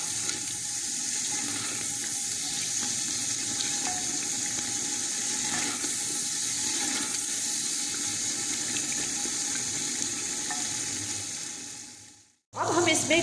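Beef korma ingredients are fried in a pot, producing a continuous loud hiss and sizzle that carries on steadily for about twelve seconds, then cuts off abruptly with a brief bump of noise afterward.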